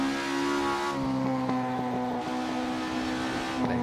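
A Ford Capri RS engine in Assetto Corsa holds a steady, harmonic-rich drone at moderate volume, with a brief shift in pitch partway through as it accelerates, heard alone with no talk.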